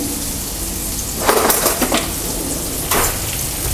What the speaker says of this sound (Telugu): సో ఆల్మోస్ట్ ఇంకొక 1 minute ఆనియన్స్ బాగా ఫ్రై అయిపోతాయి